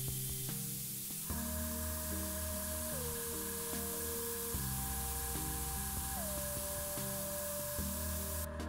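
A steady airbrush hiss spraying thick paint on a model figure runs continuously from start to finish beneath tonal background music, unbroken and fairly quiet.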